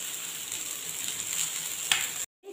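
Chicken pieces frying in oil in a pan make a steady, close hiss of sizzling that continues alone before stopping abruptly.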